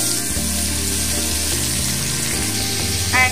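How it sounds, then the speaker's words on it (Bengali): Pumpkin pieces frying in hot oil in a pan, a steady close crackling sizzle with some watery hiss and a brief bright clatter near the end. "কুমড়োগুলোকে আমি তেলের মধ্যে দিয়ে দিচ্ছি।"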